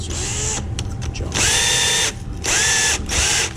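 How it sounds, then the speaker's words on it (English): A power drill fitted with a wire brush, used to clean tartar off a broken boat trailer axle, whirs loudly in close bursts, briefly spinning down between runs with a rattling, ratchety mechanical edge. "This drill just spins."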